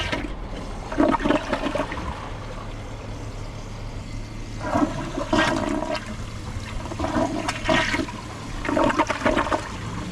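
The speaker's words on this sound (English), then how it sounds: "Here's a flush using a little bit of water." A Kohler Highline Arc tall-tank toilet flushing with only a little water in the tank, its rushing gurgles rising in several separate surges over a steady low hum, close by and with no voices.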